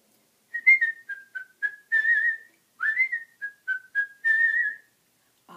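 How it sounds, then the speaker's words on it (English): Someone whistles a quick, bright tune of short chirpy notes and a few held tones, close up and alone with no talking. "I also whistle."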